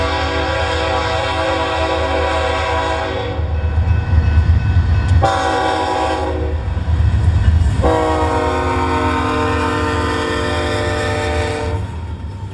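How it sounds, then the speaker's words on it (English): Four BNSF ES44 locomotives haul a long westbound domestic intermodal container train through Wichita Falls. Loud rumbling engines run under repeated long horn blasts, which have a short break between them, and the sound stays close and heavy throughout. "this set of 4 BNSF ES-44s take a westbound through the city"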